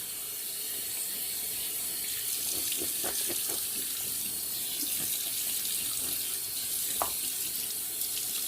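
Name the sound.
running tap water used to wet the face after shaving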